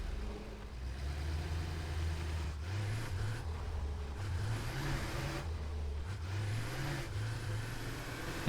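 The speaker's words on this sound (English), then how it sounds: "Our little tractor will do that" A small tractor drives along in the video game Satisfactory, its mid-pitched engine droning steadily with repeated rises and falls in revs, moderately loud and continuous with no talking over it.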